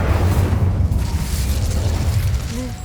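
A fiery Incendio spell blast from Hogwarts Legacy, a loud, dense roaring burst that holds low and heavy across the clip, with no voices over it.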